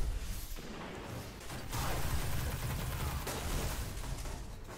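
An exotic gun fires rapidly in a Crucible match of the video game Destiny, a loud, dense stream of shots amid other gunfire and game noise.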